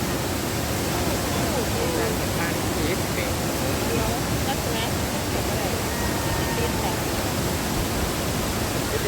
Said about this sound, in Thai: นั่งฟังเสียงน้ำตกไปนะคะ